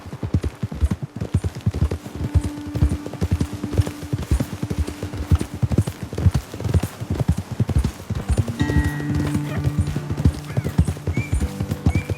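Steady hooves clip-clop at a walking pace throughout in Red Dead Redemption 2, with a horse briefly snorting or whinnying near the end.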